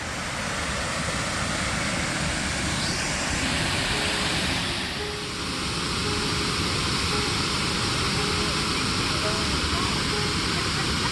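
Steady broadband rush of a waterfall outdoors near a large burial mound, loud and continuous throughout, with a faint tonal hum running underneath partway through.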